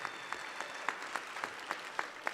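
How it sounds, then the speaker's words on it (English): Audience applause at a university provost program ceremony honoring students and parents, a steady rhythmic patter of many hands clapping, moderately distant and even, with no voices over it. "You deserve a round of applause, parents as well."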